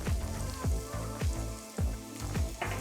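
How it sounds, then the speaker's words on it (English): Onions and garlic sizzle in a hot pan of grapeseed oil, a steady crackling hiss with soft recurring thumps, close and unaccompanied by talk. "I'll get the pan nice and hot. We'll add some grapeseed oil. And we'll add the onions and the garlic"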